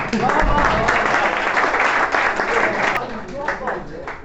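Applause from a farewell party crowd for a performer's qawwali, a dense sustained clapping that stays loud throughout with voices mixed in.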